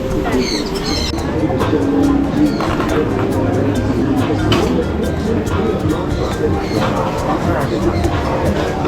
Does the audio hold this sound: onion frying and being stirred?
no